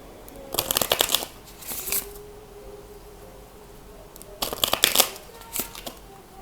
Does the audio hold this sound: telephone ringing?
no